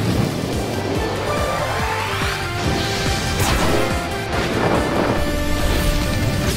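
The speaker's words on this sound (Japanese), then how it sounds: "大波に乗るぞ。" A big ocean wave effect from a Japanese historical strategy card game, a loud continuous crashing surge of rushing water with layered whooshes and impacts throughout.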